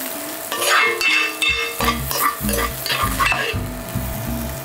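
Fried bacon and onion being scooped out of a pot on an induction cooker, with steady sizzling and repeated scraping and stirring strokes of a utensil against the pot, loud and close with no talk.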